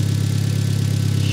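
A Ford RS Turbo car engine idles steadily nearby, a smooth, even, continuous rumble with a constant low hum and no revving.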